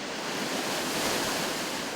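A waterfall in an Atlantic Forest protected area pours with a dense, continuous roar of falling water, broad and steady, loud and close with no voices.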